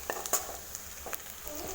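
Coarsely ground dried red chilies fry with onions in a pan for a chicken fry, giving a soft, steady sizzle broken by a few sharp pops and stirring scrapes, close and without talk.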